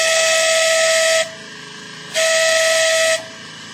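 A steam whistle on a one-third scale African Queen steam paddle boat blows two loud, steady blasts of about a second each, separated by a short pause, close by and with no voices.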